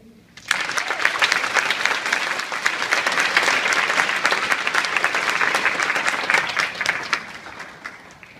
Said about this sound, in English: Please help me in welcoming our great-grandfather, Robert Crerar.